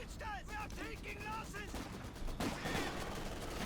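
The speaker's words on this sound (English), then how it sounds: "With all this extra firepower going down on them" Infantry gunfire in Company of Heroes 2, a scattered mix of close and distant shots and bursts that carries on steadily throughout, with bright chirping tones over it early on.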